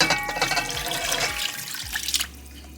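Water pouring into a cooking pot for Cameroonian yellow soup, a close, splashing stream with irregular gurgles that ends abruptly near the close, with no talk.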